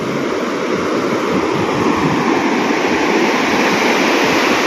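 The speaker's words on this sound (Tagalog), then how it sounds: "malalaking alon" Big sea waves roll along a provincial coast, a broad, steady roar of surf, loud and continuous, with no voices over it.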